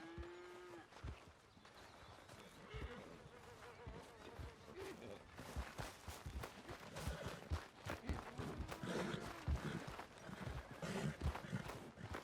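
In Red Dead Redemption 2, a horse's hooves clip-clop faintly among farm sounds at a ranch, with cattle lowing and insects buzzing in the background. A steady run of soft hoof knocks fills the second half.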